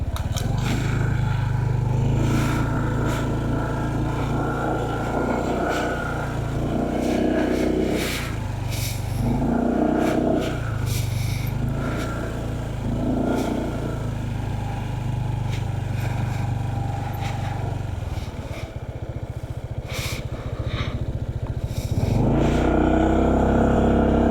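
A motorcycle engine running on a mountainside campsite road in Sagada, loud and near, a continuous rumble with shifting revs throughout.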